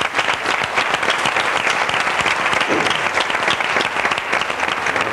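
Loud, dense audience applause welcoming Belén Ordóñez on a television interview set, a continuous wash of many hands clapping close up, steady throughout with no voices over it.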